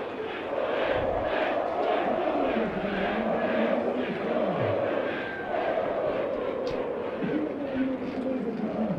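Large football stadium crowd at a Dinamo versus UTA match roaring and applauding after the equaliser, a dense continuous mass of noise with chanting swells, heard from a distance.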